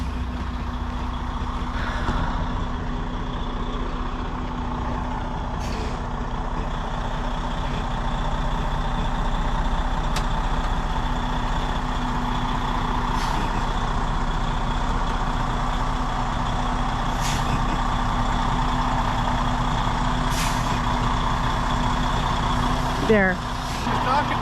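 A truck engine idles and rumbles steadily up close as the vehicle creeps along and comes to a stop, with faint higher beeps and a brief hiss near the end.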